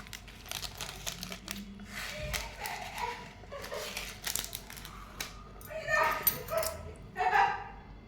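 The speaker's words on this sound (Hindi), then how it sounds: "डंडे की मार खाकर कुत्ता चीखता हुआ वहां से चला जाता है।" A dog yelps and whimpers in short, rising cries after being struck with a stick by a shop owner, mixed with crinkling and rustling noises and background voices.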